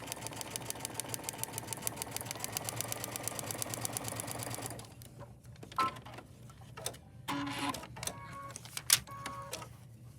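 A sewing machine stitches a paper-pieced quilt block in a fast, steady run of close needle clicks for about five seconds, then stops, followed by quieter handling clicks and rustles of fabric and paper.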